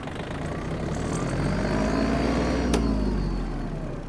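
A Yanmar RS-24 mini tractor engine drones steadily at close range, holding a constant low rumble that swells slightly as it runs up through the gears, with no voices.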